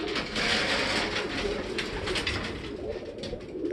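Pigeon hen cooing at close range, a continuous low throaty coo with soft rhythmic pulses, among racing pigeons at a loft.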